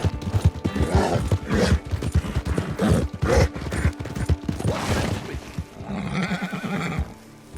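A horse whinnies and snorts repeatedly in a stable in Valentine in Red Dead Redemption 2 during a winter race, with hoof clatter and mechanical noises around it, loud and close.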